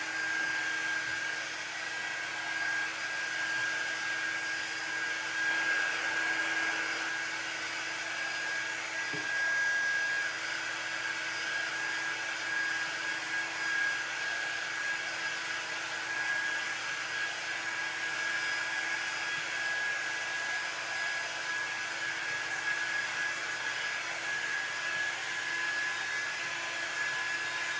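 A handheld dryer blows hot air over the edge of an ink-decorated craft piece, a loud, steady whirring hum running unbroken and close for the whole stretch with no talking.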